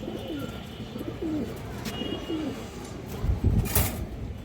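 Domestic pigeons, including a silver female, coo in soft repeated phrases close by, with a low bird-room murmur and a brief louder rustle near the end, no speech.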